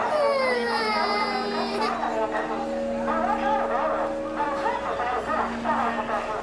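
A little girl cries and sobs steadily at a railway station, her wailing voice loud and close, with station background noise underneath.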